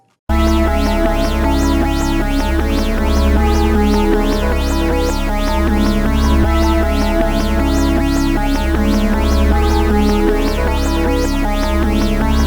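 A dense, loud electronic beat with thumping low end and a bright, plucky synth arpeggio repeating rapidly throughout, busy and continuous.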